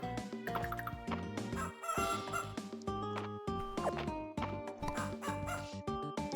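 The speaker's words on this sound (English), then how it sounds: "They're whole chickens!" Chickens cluck in the farming video game Fields of Mistria over a busy, steady melodic backdrop of game music, the bird calls scattered throughout and partly blended into the tune.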